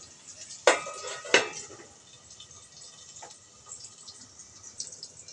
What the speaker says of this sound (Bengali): আলুগুলো একটু ঢেকে দেবো